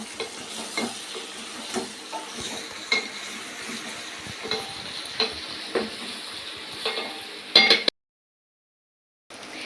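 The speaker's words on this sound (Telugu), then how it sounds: "ఇవంతా కూడా చక్కగా కలిసేలాగా ఒకసారి కలుపుకొని వీటిని చక్కగా ఆయిల్లోనే మగ్గనిద్దాం." Brinjals and mint stirred in hot oil give a steady sizzle. Repeated scrapes and light clinks of a spoon against the pan come at a close, even pace, then the sound cuts to silence near the end.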